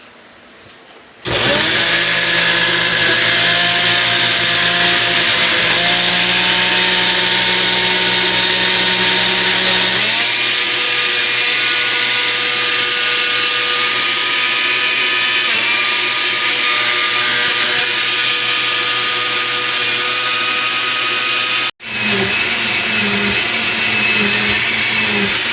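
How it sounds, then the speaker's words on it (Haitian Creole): A kitchen blender whirs loudly and steadily while blending ingredients for bouyon, stopping briefly near the end before restarting. "Après ça, nous allons le blender."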